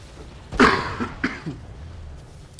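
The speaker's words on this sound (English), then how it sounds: "Another cough." A single sharp cough, followed by a couple of smaller throaty sounds, close by against a quiet background.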